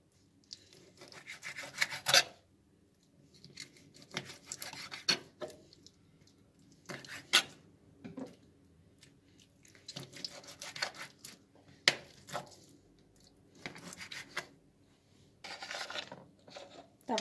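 Knife slicing cuttlefish on a board while cooking cuttlefish with cut pasta, soft irregular scraping and tapping cuts repeated over several seconds, close but quiet, no talk.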